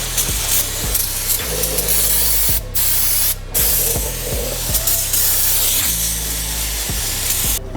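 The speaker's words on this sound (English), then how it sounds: "I'm basically spraying it everywhere." An aerosol can of brake cleaner hisses in long continuous bursts, with brief pauses between sprays, close up, over a low mechanical hum, while being sprayed on a car's brake calipers.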